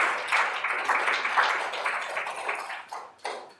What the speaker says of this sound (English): we finish with a warm round of applause